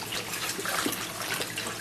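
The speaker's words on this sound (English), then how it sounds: "let the water rinse the broccoli, and we're going to let it soak" Tap water runs steadily over broccoli being rinsed in a kitchen sink, a close, continuous splashing rush with no voices.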